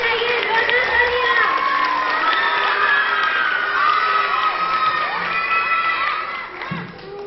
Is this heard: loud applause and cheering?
yes